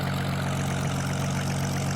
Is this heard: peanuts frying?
no